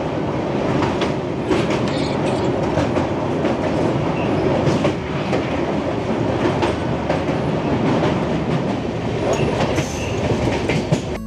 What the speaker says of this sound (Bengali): সেবক পার করে এসে তিস্তা নদীর ব্রিজ পেরিয়ে কাঞ্চনকন্যা ছুটে চলেছে নিউ মাল জংশনের দিকে।